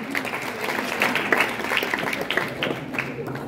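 Comedy show audience in Burundi applauding, a steady wash of clapping with crowd murmur running throughout, moderately loud and continuous with no single voice standing out.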